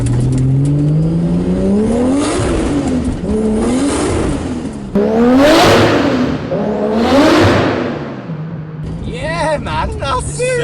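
A modified car with a non-standard SR20 engine revs hard as it pulls away, rowdy and close, the pitch sweeping up through several gears with sharp bursts. Excited voices talk over it.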